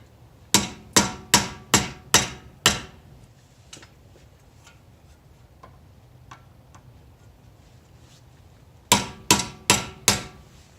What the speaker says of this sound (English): you have to chisel this dust plate off